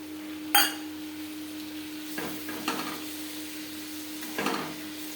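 Okra sabzi being stirred in a pan as tomato goes in, a few bursts of sizzling and scraping against a quiet background with a low steady hum, no talking.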